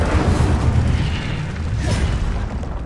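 An Incendio fire spell is cast in Hogwarts Legacy, giving a sustained roaring, whooshing burst of flame with a heavy low rumble that stays loud and dense throughout.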